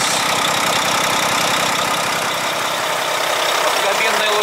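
A loud Euro-5 truck diesel engine idles steadily with a low, even knock, running continuously without voices.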